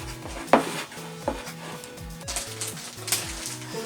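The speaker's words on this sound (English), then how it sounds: "I'm gonna stir it up" A spoon stirs mini donut batter with chocolate and vanilla in a bowl, giving a few soft scrapes and clinks over a low background tone, close and quiet, with no talk.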